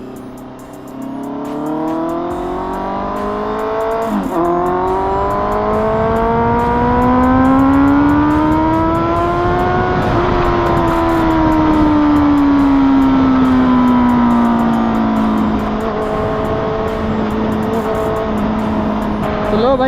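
A motorcycle fitted with an SC Project exhaust pulls away and rides on, its engine note climbing through the gears in a loud, close, sustained drone with brief dips at shifts.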